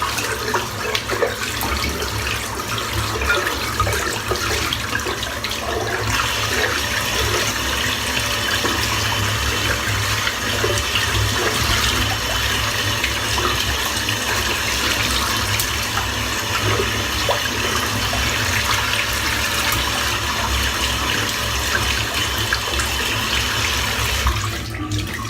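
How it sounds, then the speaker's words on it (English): Tap water runs steadily into a sink for the whole stretch while a shaving brush is rinsed out, a continuous close splashing hiss with no voices. "let's get this brush rinsed out."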